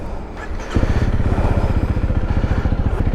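A Honda CRF300L dual-purpose motorcycle pulls away, its single-cylinder engine rising from a quiet idle into a loud, close, steady chugging throb that continues as it rides off.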